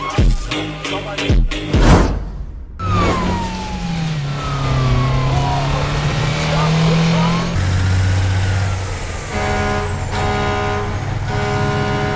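A heavy truck engine drones steadily through a police chase in an action film, swelling and revving amid dense, loud action sound with sirens and passing vehicles.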